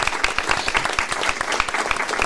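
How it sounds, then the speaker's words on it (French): A live radio game broadcast from a Bricomarché store in Tarascon: a crowd applauds a winner with dense, steady clapping that holds at an even level for the whole stretch. "Anaïs qu'on applaudit"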